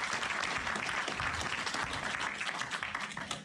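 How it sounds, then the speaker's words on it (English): Audience applause at a funk music event in Indianapolis, a steady, dense wash of clapping from a crowd that holds evenly for several seconds and tapers slightly at the end. "a special round of applause for Gooch and Flash, who are here in attendance"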